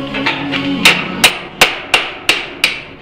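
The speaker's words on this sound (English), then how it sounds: "So I just dig out my old big old trusty chisels that old school, and I work at it" Hammer blows drive chisels into the metal body of a 1969 Ford Bronco Sport under restoration, with about six loud, sharp metallic strikes at a steady rhythm, close up, after softer tapping.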